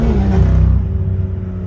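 A BMW M2 accelerates hard from inside the cabin, its deep engine note climbing and then easing into a steady rumbling drone.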